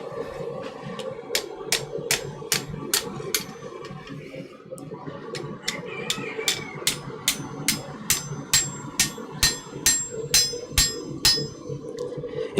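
A hammer strikes metal in a blacksmith's smithy during an attempt at forge welding, landing in two runs of evenly spaced, ringing blows that grow louder and more regular in the second run.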